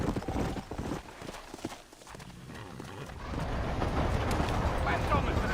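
Horse hooves clip-clopping on a town street in the Red Dead Redemption video game, a steady near walking rhythm heard under spoken dialogue and background ambience.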